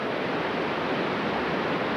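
The Triberg waterfalls in the Black Forest produce a dense, steady rush of falling water, loud and close, with no voices or breaks.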